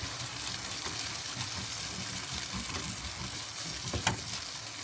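Sausages browning in a pot in a small RV kitchen, a dense continuous sizzle close up with a low rumble and one brief clunk near the end.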